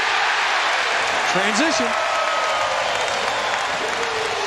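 Dense basketball arena crowd at a Lakers vs Bucks NBA game cheering and applauding steadily throughout, loud and continuous, with a commentator's voice briefly over it.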